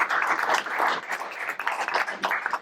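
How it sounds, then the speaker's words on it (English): A small meetup crowd applauds a sports tech panel with moderate, uneven clapping that swells and thins over a few seconds, fairly close and without speech. "Let's give our panel a round of applause."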